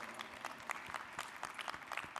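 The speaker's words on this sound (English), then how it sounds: "let's give Nobley a round of applause as well" Light applause from a convention audience, thin and fairly distant, a sparse patter of claps with no voices over it.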